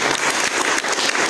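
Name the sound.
applause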